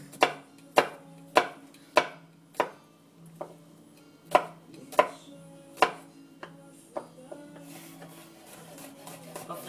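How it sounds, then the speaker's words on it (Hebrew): A knife chops garlic finely on a board for chimichurri, each close, crisp knock falling in a steady rhythm that softens and quickens toward the end, over a faint low hum. "אנחנו נתחיל לחתוך את השום, לקצוץ אותו. דק דק."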